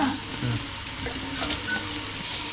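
Onion frying with ginger garlic paste in a pan gives a steady, close sizzle and hiss throughout, with faint stirring scrapes and no talking.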